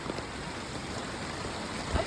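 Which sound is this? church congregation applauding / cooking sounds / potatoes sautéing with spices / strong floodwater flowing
strong floodwater flowing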